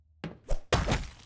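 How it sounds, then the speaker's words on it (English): An axe swinging in the survival video game Project Mist: a soft whoosh and then two heavy thunks, close and punchy, over about a second. "Let me get the axe out."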